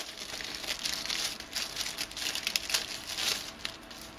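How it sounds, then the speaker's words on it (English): A packet of papers from a Zoom H2n recorder box is torn open and handled. Soft, close paper crinkling and rustling goes on steadily, with no talking. "We've got a packet of stuff. We tear into this,"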